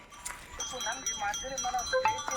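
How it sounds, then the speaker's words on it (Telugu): Faint goat bleats come through a busy outdoor background in deep forest, with voices and other rustling noises mixed in. "ఇక్కడ ఆల్రెడీ మేకలు కూడా ఉన్నాయి"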